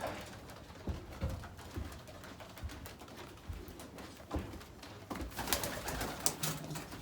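Racing pigeons coo softly in a loft after a long flight, repeated low coos spread across the scene with wing flutters and scuffling, busier toward the end.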